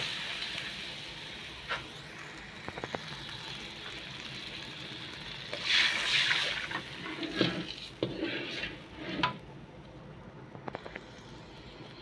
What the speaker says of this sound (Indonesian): Tidak terlalu kering, kita langsung siram dengan air.